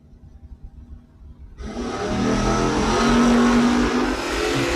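A 1967 Chevrolet Camaro and a 1970 Camaro drag race cars launch at a drag strip, a sudden loud engine roar bursting in after a quiet moment and holding a sustained high-revving blast.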